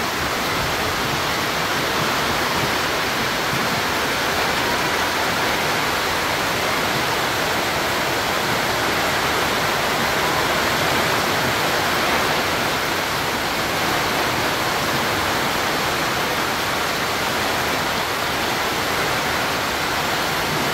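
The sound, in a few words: heavy rain during typhoon at sea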